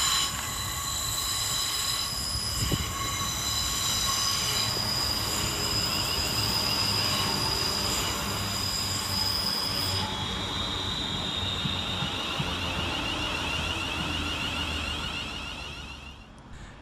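A West Midlands Railway class 350 passenger train rolls into Walsall station, wheels squealing loudly and steadily over a constant rumble, easing off toward the end.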